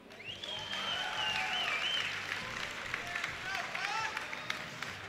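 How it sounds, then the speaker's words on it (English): Crowd cheering and clapping in the background at a StarCraft 2 match, a steady wash of applause with whistles and shouts rising over it, fairly distant. "Give a cheer for EG's Huk."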